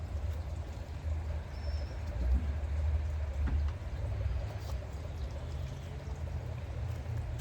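Liquid chlorine pours into a pool with a steady, close gurgling splash and low rushing rumble that runs continuously for several seconds, with no voices.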